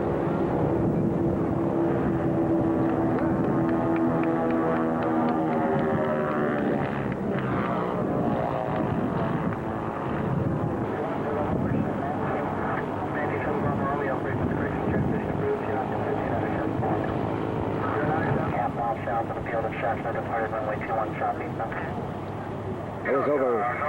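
Restored Northrop N9MB flying wing making a low pass on a 1994 test flight, a continuous loud propeller engine drone with shifting pitch, with talk over it throughout.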